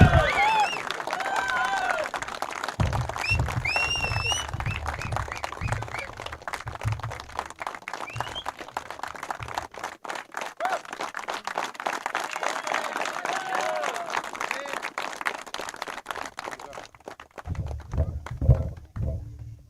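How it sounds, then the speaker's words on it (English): An audience at an award ceremony claps and cheers for a long stretch, with sharp whistles rising over the steady applause and brief voices breaking in now and then. "I want full whistle, full claps and round of applause"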